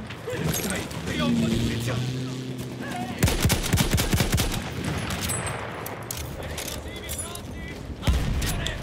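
Guns fire in the online shooter Battlefield 1, with bursts of rapid shots and heavy bangs over a busy battlefield din, while a player talks over much of the action.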